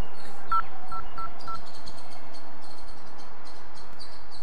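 A telephone keypad being dialed, giving four short separate DTMF tone beeps in quick succession, with insect-like chirping and faint background noise going on behind them.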